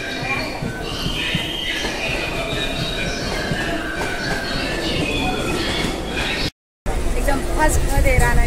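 A Mumbai local train at Kurla station rumbles and rattles steadily with faint wheel squeal, loud and close, while people talk over it throughout.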